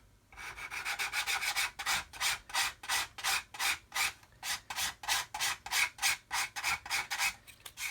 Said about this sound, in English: We can just sand